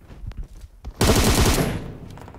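Rapid burst of gunfire from a shotgun in PUBG Mobile, a loud dense volley of shots lasting about half a second after brief muffled sounds, then tailing off.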